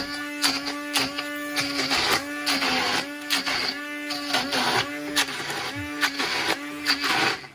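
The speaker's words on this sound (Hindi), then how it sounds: "इस वक्त मेरे पास ये हैंड ब्लेंडर है।" A hand blender grinds cooked saag in a pot, its motor whining in short repeated bursts that start and stop in a rough rhythm, loud and close with no talk.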